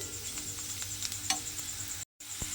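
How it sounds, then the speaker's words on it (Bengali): Bitter gourd fries in a pan with a steady, close sizzling hiss, a few small spatters and stirring clicks, and a brief gap of silence near the end. "মিশিয়ে নিয়ে এইভাবে আবারও কিছুক্ষণ একসঙ্গে ভেজে নেব।"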